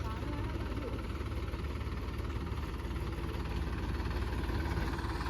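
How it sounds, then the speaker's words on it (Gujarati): A tractor engine runs steadily while reversing, a constant low heavy throb close by, with people talking over it. "તો આ મારી રહ્યા છે ટ્રેક્ટર નો રિવર્સ"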